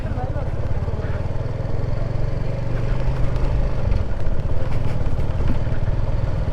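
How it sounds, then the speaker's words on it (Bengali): A 250cc Suzuki Gixxer motorcycle engine hums steadily while riding, rising slightly in the second half, with wind rush and rumble; no clear talking. "এই ফার্স্ট টাইম হচ্ছে 250 সিসির বাইকটি আমি চালাতে যাচ্ছি"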